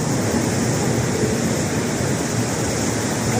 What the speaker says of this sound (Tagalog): Grabe, ang laki ng alon.